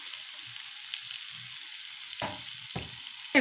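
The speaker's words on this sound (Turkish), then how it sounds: "küçük küçük doğradığım soğanlarımızı ekleyip güzelce şimdi kavuracağız" Quiet, steady sizzle of finely chopped onions frying in oil, with a few soft wooden-spoon stirring scrapes toward the end.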